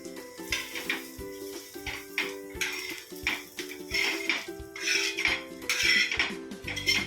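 Fried onions are scooped out of a pan with a metal utensil, making repeated close scraping and clanking strikes in an irregular rhythm over a low sizzle, with a faint ringing tone underneath.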